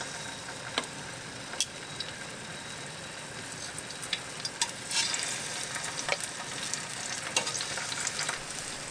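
Cherry tomatoes sizzle in olive oil in a pan, a continuous close frying hiss punctuated by sharp pops and spits scattered across the stretch, with no voices.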